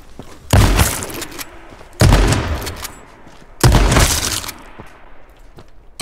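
Three loud, close gunshots from H1Z1: Just Survive, spaced a second or two apart, each a sharp crack with a brief ringing tail over a quiet background.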